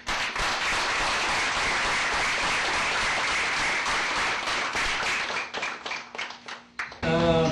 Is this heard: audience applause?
yes